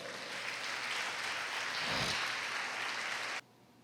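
Dense applause from a church congregation, steady and fairly loud for several seconds, then cutting off abruptly near the end.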